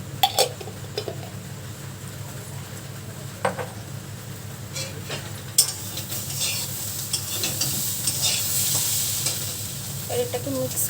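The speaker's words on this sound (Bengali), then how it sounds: "আর এটাকে মিক্স করব সসটাকে" Soy sauce mixture is stirred in a hot pan, making a continuous sizzle with sharp scrapes and clinks of a spoon against the pan. The frying grows louder and hissier toward the end.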